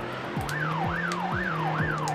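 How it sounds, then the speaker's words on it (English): A police car siren in the PS2 video game The Getaway wails up and down in about four repeated sweeps, loud and near, over the low rush of passing traffic. "in most games, when you chuck the siren on, other cars move out of the way"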